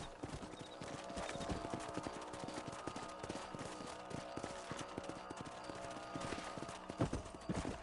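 Hooves clip-clop in a quick, uneven trotting rhythm, several horses moving together at moderate distance in the video game Red Dead Redemption, with light background noise and no talking.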